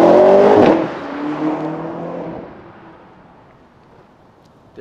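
A stolen car pulls away and drives off, a loud engine roar right at the start that quickly recedes and fades into the distance over several seconds.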